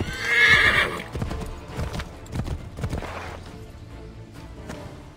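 A horse in Assassin's Creed 3 gives a loud, close whinny at the start, followed by rhythmic clip-clop hoofbeats of galloping that continue steadily and grow slightly softer.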